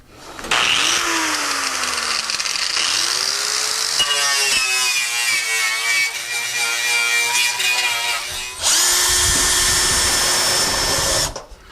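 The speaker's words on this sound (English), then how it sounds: "We cleaned up the metal with the wire brush" Power tool fitted with a wire brush cleaning bare metal on a rusted car floor, a loud whirring spin-up and grind that rises and falls across several passes, close and without talk.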